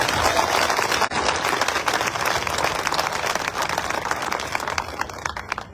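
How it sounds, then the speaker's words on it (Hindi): Listeners at a Rajput community gathering clap hard for the children, producing a full, lively burst of applause with a few sharper individual claps that carries on steadily and tapers slightly at the close. "एक बार इन बच्चों के लिए जरा जोरदार राजपूत तालियां बजा दीजिए।"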